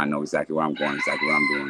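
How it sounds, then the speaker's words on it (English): A rooster crows repeatedly in the background on a farm property while someone talks in the foreground about an upcoming bare-knuckle fight, the crowing rising over and through his speech. "So that's a rooster in the background that's going off?"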